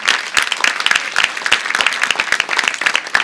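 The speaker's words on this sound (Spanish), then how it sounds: "Denle el aplauso a Jesús" A church congregation at a Spanish-language service breaks into brisk, close-up clapping, a short burst of many sharp individual claps.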